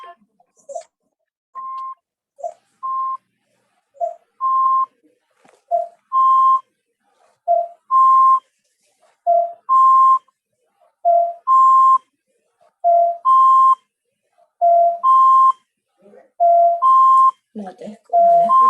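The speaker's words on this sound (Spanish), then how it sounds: "hay un sonido de fondo como una alarma" Alarm-like beeping in the background of a video call repeats in a regular alternating two-tone pattern, each short electronic tone sounding clearly against near silence, with a brief voice near the end.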